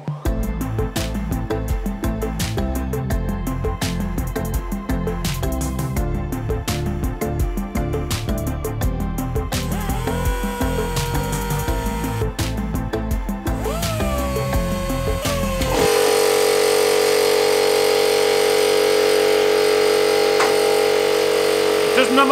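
An air compressor in an engine-building workshop abruptly kicks on partway through, its loud steady motor drone replacing the earlier clattering bench work and continuing unbroken to the end.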